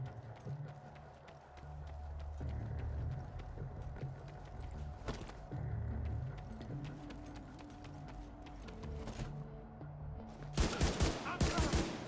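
Rapid automatic gunfire from a weapon with heavy recoil in the video game The Division 2, loud bursts with scattered shots and a dense volley near the end, set against steady game background noise.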